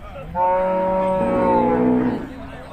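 One cow gives a long, loud, close moo lasting about two seconds at a Thai cattle market, with faint crowd background around it.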